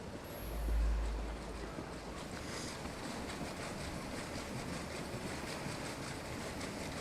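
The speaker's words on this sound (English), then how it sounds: "Here the spinning jennies run all day and night, with one woman attending each machine" Spinning jenny machines run inside a cotton mill in the game Assassin's Creed Syndicate, a steady rhythmic mechanical clatter over a low rumble, with a brief deeper hum near the start.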